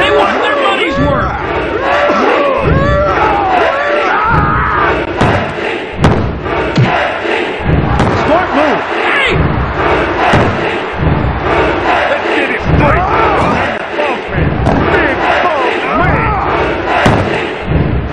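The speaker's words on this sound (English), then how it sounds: "This crowd is going berserk." A roaring arena crowd from the N64 wrestling game WWF Attitude surges loud and constant, punctuated by repeated heavy thuds and slams of wrestlers hitting the mat, with a commentator's voice over the top.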